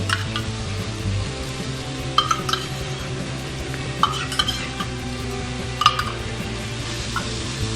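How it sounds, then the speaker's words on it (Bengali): A spoon stirs a masala of fried onions and beaten yogurt in a pan, with repeated metallic clinks and scrapes over a soft sizzle, close and fairly quiet. "টক দইটা দিয়ে আরেকটু আমি কষিয়ে নিচ্ছি মশলাটা"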